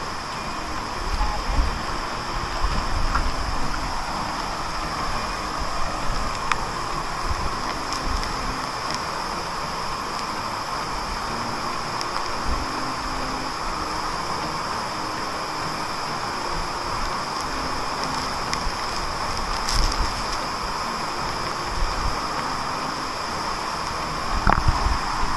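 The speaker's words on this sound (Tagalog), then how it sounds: "nandito na tayo sa pinaka-falls mismo, no? Grabe ang lakas, lagas-las pa lang yan, ah." Togonan Falls in Mainit, Surigao del Norte, its water rushing in a loud, steady broadband roar that goes on without a break.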